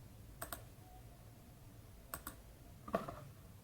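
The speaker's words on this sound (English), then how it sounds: "So I'll come and click on the last point to close it." Soft computer mouse clicks closing the last point of a shape in Smart Notebook software, three separate pairs of quick, close clicks spaced over a few seconds in a quiet room.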